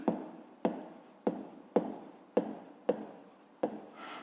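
A pen writes on paper with regular strokes, about seven scratchy bursts each roughly half a second apart. The sound is close and fairly quiet, with no voice over it.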